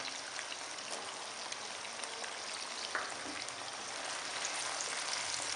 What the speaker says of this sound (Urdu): گاجروں کو 1 سے 2 منٹ فرائی کرنے کے بعد اب اس میں شملہ مرچ شامل کر دیں گے